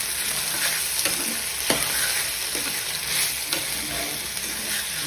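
Tomatoes and onions sizzle steadily in a kadai, a dense close frying hiss broken by regular scraping strokes of a spatula stirring the mix.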